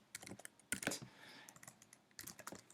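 Java code being typed on a computer keyboard, quick irregular clusters of close key clicks with brief pauses between bursts, no talking.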